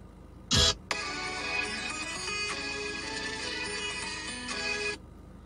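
Phone ringing out on an outgoing call: a short loud click, then a steady electronic ringback tone pulsing continuously for about four seconds before cutting off, with no talk.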